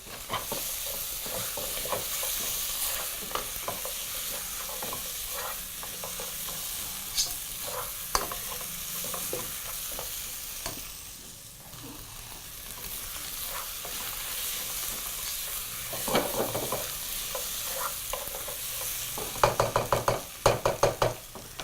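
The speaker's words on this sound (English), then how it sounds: "And while your meat continues to brown" Mutton browning in a pan with tomato paste stirred in, sizzling steadily with scraping stirs and occasional knocks of the utensil against the pan, louder bursts near the end, no talk.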